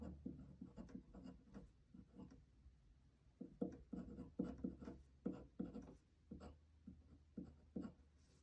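Marker or chalk writing on a board during a chemistry lecture, heard as irregular bursts of scratchy strokes and taps, some grouped in quick runs, fairly close and alone with no talking.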